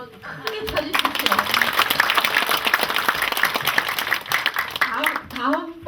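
Audience applause at a literary association's poetry reading during an arts festival, a dense continuous clapping that swells and holds for several seconds, with faint voices at the start and end.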